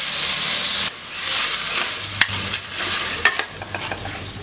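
Soaked, drained green gram is tipped into a hot pan, giving a loud sizzling hiss followed by a few sharp stirring scrapes and clicks, with no talking.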